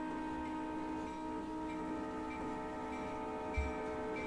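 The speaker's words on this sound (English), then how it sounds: "And now it's just the sound of a train." A train rumbles steadily with a sustained tonal drone, like a horn or wheel whine, holding at a constant distance with no voices.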